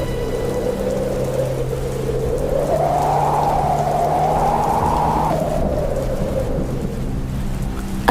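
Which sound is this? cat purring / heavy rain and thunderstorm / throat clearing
heavy rain and thunderstorm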